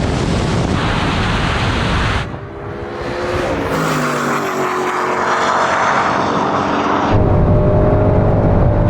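A Mercedes AMG SLS Black Series and a Mustang Shelby GT500 launch in a race. Loud engine roars rise and shift in pitch as both cars accelerate hard, the sound dipping briefly before swelling again into a sustained powerful drone.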